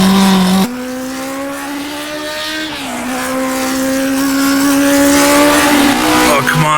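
A 1960s Formula 1 car with an H16 engine screams through its revs in rFactor 2, a loud, close engine whine that steadily climbs in pitch, dips briefly, then winds up again.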